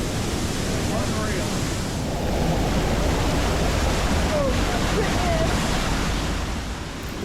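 Waterfall and rushing water in a rocky gorge on Dominica, a loud, steady broadband roar of falling and flowing water filling the whole stretch with no clear breaks.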